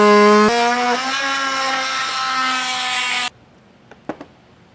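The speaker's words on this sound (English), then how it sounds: "take a multi-tool and we're going to trim out anything that is vertical here" An oscillating multi-tool trims a vertical plastic panel edge on a 2022 Ford Expedition, making a loud, steady, high-pitched buzzing whine for about three seconds before stopping, with a few faint clicks afterward.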